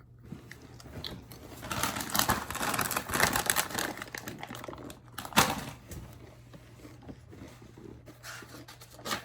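Someone eating chips close to the microphone: irregular crunchy bites and crinkling bag rustles, rising and falling in clusters, with one sharp louder crunch midway and no talking.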